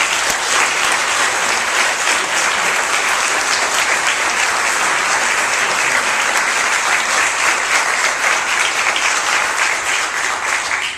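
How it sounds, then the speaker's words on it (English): A theater audience gives sustained applause to soldiers, a long, even roar of many hands clapping together without pause, full and close. "I think everyone would like to give you a round of applause for serving our country so diligently"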